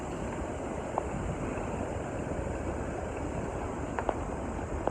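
Sea waves washing in at a beach, a constant broad wash of surf with wind buffeting the microphone and a few faint knocks, no voices.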